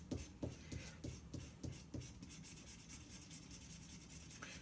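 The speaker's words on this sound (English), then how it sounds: "let's scratch first" A coin scrapes over a scratch-off card from a Wax Barn ring candle in a few quick, faint rubbing strokes close by, then goes quiet.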